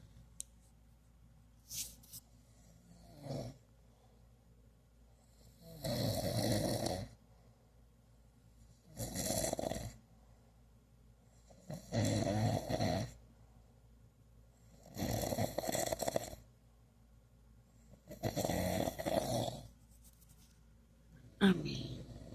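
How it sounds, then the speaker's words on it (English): A man snoring in his sleep at night: five or six slow, loud rasping snores at regular intervals of about three seconds, with quiet breathing between them. "my baby is snoring."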